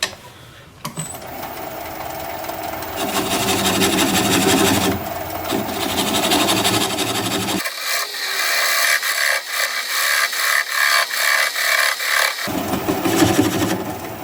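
A wood lathe turns a sycamore bowl while a swept back bowl gouge cuts it, giving a steady loud scraping whir with a rising rhythmic chatter that sharpens and thins near the end.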